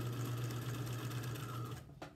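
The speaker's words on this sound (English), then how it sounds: "So we're just going to sew right over the rope." A sewing machine runs close and steady, stitching straight over a rope on a fabric bag, then halts with a brief click near the end.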